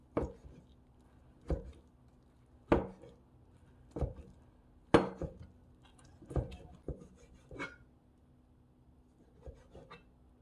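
A knife julienning vegetables for gujeolpan strikes a cutting board in sharp, well-spaced chops, about a dozen distinct knocks in uneven rhythm, close and alone in a quiet room.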